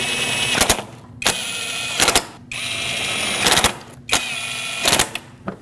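Bolts being snugged in a cross pattern during spark plug work on a Lexus IS250: repeated short bursts of whirring power-tool ratcheting, about six in a row with brief pauses between, loud and close.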